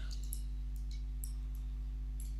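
Computer mouse clicking during UV mapping work on a low-res character, several short sharp clicks in pairs over a constant low electrical hum, close and alone.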